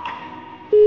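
A telephone busy tone sounds after a call is hung up on, a loud steady tone that cuts in near the end and follows a faint hiss of line noise.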